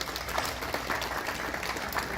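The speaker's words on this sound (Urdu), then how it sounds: "ان کے لیے تالیاں بجائیں سب لوگ" Audience at a dairy exhibition in Swat applauding for a livestock farmers association, dense steady clapping from many hands at medium distance, carrying on evenly without speech.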